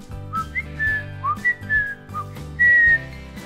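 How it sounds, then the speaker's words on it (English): A person whistles a bouncy, wandering tune of several short rising and falling notes, ending on a longer held note, with a steady low musical accompaniment underneath. "It allows me to whistle"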